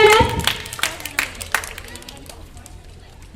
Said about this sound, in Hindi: Please put hands together for grade LKG and nursery.